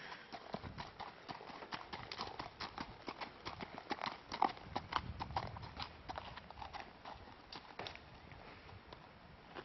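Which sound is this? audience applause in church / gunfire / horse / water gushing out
horse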